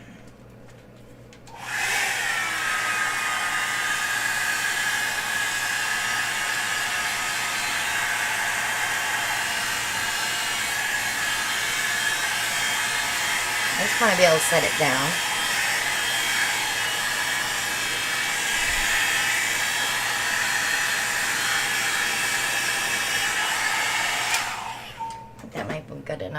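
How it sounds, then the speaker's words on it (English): A blow dryer drying a resin pour painting gives a loud, steady whooshing roar that runs for over twenty seconds before switching off, with a brief spoken remark partway through. "Let me see if I can blow dry that."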